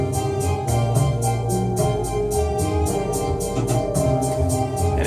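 A synth sequence programmed on a Korg Kross 88 keyboard plays in a looping groove: a rapid, pulsing high pattern over thick bass and chordal layers, continuous and fairly loud.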